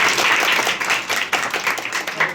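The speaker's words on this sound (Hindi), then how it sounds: "अश्वनी सर के लिए पुनः ताली बजाइए" A room full of students applauds a teacher named Ashwani at a coaching class celebration of tenth-grade exam results, with dense, steady clapping that rises and falls slightly and keeps going throughout.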